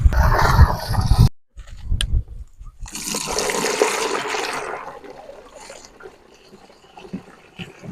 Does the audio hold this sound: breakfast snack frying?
no